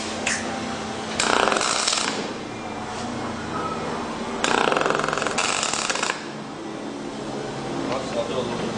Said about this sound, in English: That's what Mig brazing is all about.